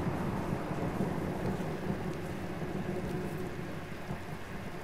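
Thunderstorm in the Uncharted: The Lost Legacy video game: steady heavy rain with low rolling thunder rumbling continuously underneath, loud and enveloping, with no talk.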